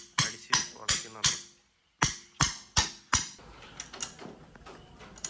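A metal clamp for a head guard is hammered to bend it. About eight sharp, ringing metallic blows land close and loud in an uneven rhythm, with a brief pause, then lighter, quicker taps.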